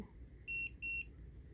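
Two short, high electronic beeps in quick succession from a dog training collar, each about a fifth of a second, clear over a faint low background hum.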